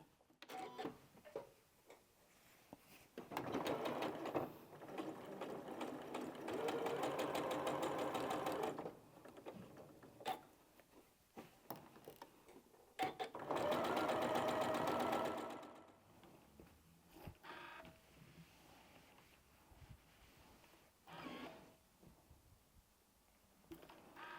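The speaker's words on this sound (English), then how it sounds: "So let's just sew that one so you can see that one." A sewing machine stitches a diagonal seam through quilting fabric. Two sustained whirring runs of rapid needle clatter each last about five seconds, with quiet handling and clicks before, between and after them.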